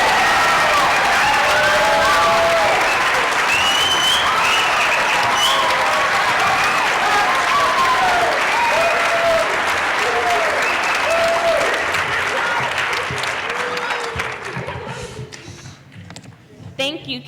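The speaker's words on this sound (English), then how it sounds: "Can I get another round of applause for all our candidates?" Sustained applause and cheering from an evening audience at a congressional district candidate forum, dense and steady for about fourteen seconds before thinning out, with faint voices under the clapping.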